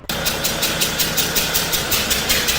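Engine running steadily in a marine academy engine workshop, a continuous loud mechanical drone with a regular pulsing beat that starts abruptly and holds throughout, with no voices.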